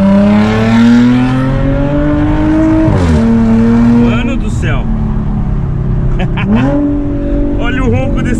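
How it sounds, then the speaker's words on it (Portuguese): A Ford Mustang GT 5.0 engine roars loudly and close, revving up in rising sweeps with brief dips between, while someone talks over it. "Olha o ronco desse carro, tio."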